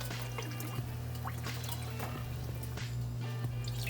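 Chicken stock and water pour steadily into a pot of ramen broth in a kitchen, making a soft continuous trickle over a low electrical hum with no one speaking.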